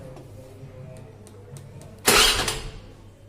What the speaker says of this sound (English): When starting the engine.